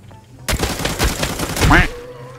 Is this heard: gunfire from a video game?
yes